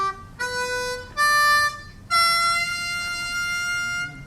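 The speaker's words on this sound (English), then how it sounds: "You do have the full dominant 7 chord by playing the 6 draw as a half-step bend." Harmonica playing a dominant 7 chord with a half-step bend on the 6 draw, several sustained bright reedy notes in steady phrases, loud and close, with no voices.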